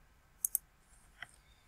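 Two quick, sharp mouse clicks close together, then a single fainter click a moment later, crisp and close in an otherwise quiet room.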